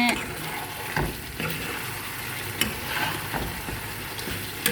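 Chicken, about 900 grams, fries and is stirred in a pan for a Bengali curry with bottle gourd: a steady close sizzle broken by regular spoon scrapes and knocks, with no talking.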